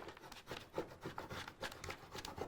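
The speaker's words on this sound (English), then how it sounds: "So scrape and pull at the same time." A scraper tool is rubbed over the transfer backing on a Cricut notebook, giving faint, close scratchy strokes in an uneven rhythm with no talking.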